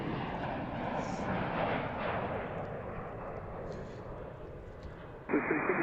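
A departing airliner takes off from runway 33 at Reagan National Airport, its broad jet rumble heard at a distance and fading gradually, with a brief sharp burst near the end.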